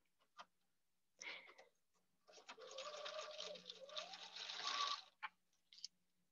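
A dual feed sewing machine stitches a seam through several layers of a lined tote, giving short quiet bursts of motor whir and needle clatter, then one longer steady run lasting a few seconds.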